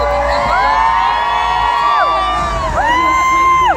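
A lively crowd at an event cheers, whoops and whistles, loud and continuous, with rising and falling shouted tones layered over a dense roar of voices.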